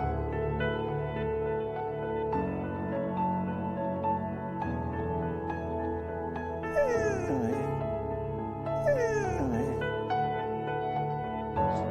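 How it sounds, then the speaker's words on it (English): A cartoon dog howls and whimpers in pain after its foot gets stuck between rocks, giving two rising-and-falling cries over steady background music in a children's story. "Henny howled in pain."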